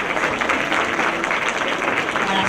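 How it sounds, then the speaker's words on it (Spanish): Steady, fairly loud applause fills an audience hall at a Mexico City conference on personal data protection law, dense overlapping claps for the whole short stretch with no talking. "Un aplauso."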